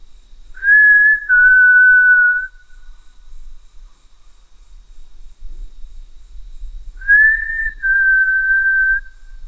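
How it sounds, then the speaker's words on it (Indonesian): A person whistling alone in a pitch-dark mountain forest on Gunung Salak: two long, clear, slightly falling whistled notes, each about two seconds, separated by a quiet pause with faint low rumble behind. "Nanti saya akan coba bersiul di sini"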